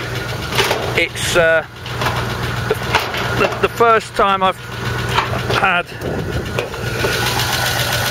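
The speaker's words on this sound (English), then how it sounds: "The engine's running now. It runs absolutely beautifully." A 1946 Ford half-ton stepside pickup with its original flathead V8 running, a steady low engine rumble heard close under someone talking throughout.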